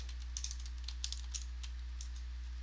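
Quiet keystrokes of code being written on a computer keyboard, with light irregular clicks that come in small bursts over a steady low hum.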